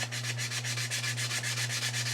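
Steady rhythmic sanding rubs across a model star fighter, the back-and-forth strokes even and moderately quiet, with no voices.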